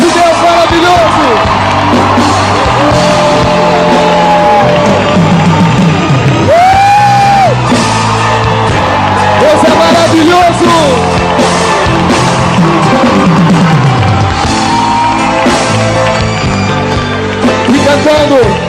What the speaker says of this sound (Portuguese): Vamos aplaudir a obra de Deus.